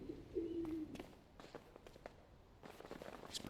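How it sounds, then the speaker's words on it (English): Pigeons coo in the video game PowerWash Simulator 2, a brief low cooing call near the start, followed by soft scattered footstep-like taps and small clatters, all faint. "These birds are very loud for some reason"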